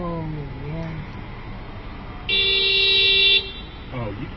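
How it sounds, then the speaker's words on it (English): A vehicle horn near a bridge sounds one long, loud steady honk lasting about a second, with voices talking briefly before and after it. "Oh, you keep honking, buddy. It's freaking honking."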